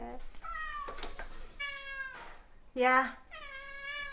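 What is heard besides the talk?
pet cat meowing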